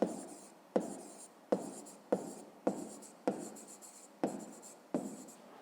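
A pen scratches across paper in about eight regular strokes, each starting with a sharp onset and trailing off, close and quiet as a maths answer is written out by hand.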